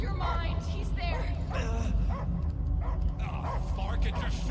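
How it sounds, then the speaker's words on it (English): Cosmo, a dog in the Guardians of the Galaxy video game, gives repeated yelping barks and whimpers amid busy game sound, with voices talking over it. "I hear only barking."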